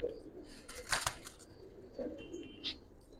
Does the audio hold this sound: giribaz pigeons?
yes